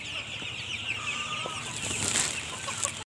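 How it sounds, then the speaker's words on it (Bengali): Chickens clucking all around on a farm, a steady busy layer of hen calls with occasional sharper squawks and a brief wing flutter, fairly close and continuous throughout. "তুমি অবশ্যই দেখছে শুধু মুরগি আর মুরগি"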